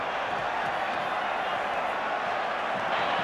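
Auckland rugby crowd in a packed stadium at a 1996 Super Rugby match, a dense, steady roar of many voices singing and cheering together, loud and continuous throughout.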